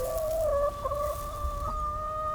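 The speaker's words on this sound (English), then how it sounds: "Chickens are making a bit of a noise." Backyard chickens in a home vegetable garden cackle and squawk close by, a rooster-like drawn-out call holding steady with overlapping clucks and short cries, loud and clear with no talking.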